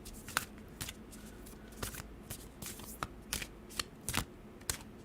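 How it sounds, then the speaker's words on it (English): A deck of cards being shuffled up close, soft riffling bursts and flicks spread unevenly across a few seconds, quiet with no voices. "I'm going to give him a good shuffle here."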